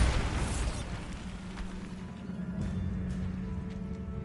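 A Bombarda blasting spell going off in Hogwarts Legacy: a heavy explosion that opens loud and decays into a sustained low rumble with light crumbling debris and a faint hum.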